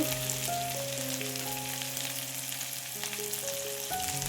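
Ground green masala paste spooned into hot oil, sizzling and stirred in a pan while making a quick tomato chutney: steady, close, bright frying hiss throughout with faint scraping, no voices.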